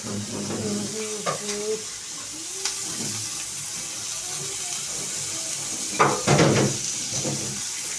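Onions frying in a pan give a soft, continuous sizzle, with a few brief scrapes and a short stretch of faint talking over it.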